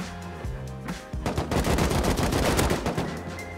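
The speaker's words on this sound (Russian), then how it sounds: "Тут с пулика чел стрелял." Machine-gun fire from a video game comes in dense rapid bursts, loud and close, after a few earlier isolated shots, with no speech.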